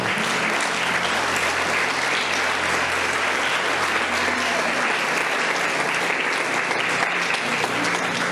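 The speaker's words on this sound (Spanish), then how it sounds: "Dale un aplauso." Sustained, dense applause from a church congregation at a sixtieth-anniversary service, loud and steady throughout with no break, a faint murmur of voices under the clapping.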